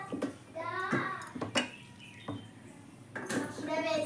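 Dishes and pots clattering as rice is served at home, with several sharp clinks and scrapes of utensils mixed in with a child's and adults' voices talking nearby.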